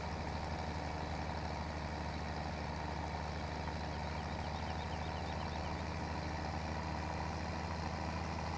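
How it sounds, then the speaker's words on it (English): A tractor in Farming Simulator 17 strains to pull a heavy trailer on the Shamrock Valley map, producing a loud, continuous engine drone with a steady low hum and no talking. "Now this tractor is definitely having some hard time pulling this"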